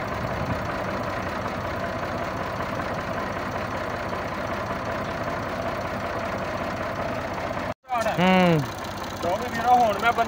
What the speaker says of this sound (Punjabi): ਹੁਣ ਇੰਜਨ ਆਪਣਾ ਚੱਲ ਗਿਆ